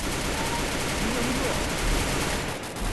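A Bizon submachine gun fires in the Free Fire video game as a dense, loud, unbroken burst of rapid shots that fills the whole stretch, dipping briefly near the end.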